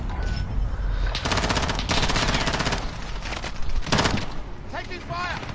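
Automatic gunfire and machine-gun bursts in a Call of Duty match, loud and dense in rapid rattling volleys with a heavy boom, mixed under excited gamer chatter throughout.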